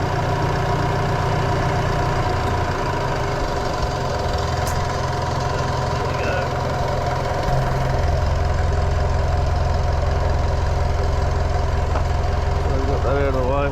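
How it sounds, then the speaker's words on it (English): A Mitsubishi Triton MN with a 4D56T diesel engine idles steadily at close range, a low continuous rumble with a faint rattling knock, shifting slightly in tone partway through. "car's still running alright"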